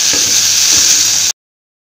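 Onion and tomato sautéing in a pan for a pattani masala, a steady loud sizzle with faint stirring scrapes, close and continuous until it cuts off abruptly.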